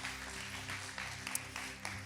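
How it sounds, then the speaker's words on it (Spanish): A church congregation claps in greeting, a steady wash of applause heard at moderate distance over a low sustained musical hum, continuing evenly throughout the short stretch. "vamos a saludar a nuestra comunidad online con un fuerte aplauso"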